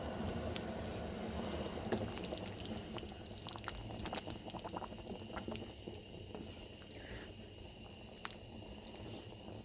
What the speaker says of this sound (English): Here's the coffee. Pour it in there.